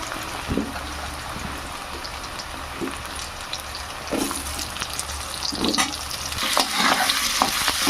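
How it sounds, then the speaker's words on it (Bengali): Potatoes frying and being stirred in a pan with fish-head cabbage cooking, a steady close sizzle under scraping spatula strokes that grow busier toward the end. "এবার আলুগুলো দিয়ে একটু ভাজবো"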